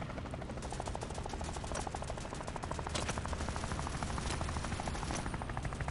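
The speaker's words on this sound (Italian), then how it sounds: "prendo l'elicottero" Helicopter and gunfire in the video game Strike Force 3: a steady, loud rotor chop runs throughout, with rapid automatic gunfire rattling over it in close bursts and no speech.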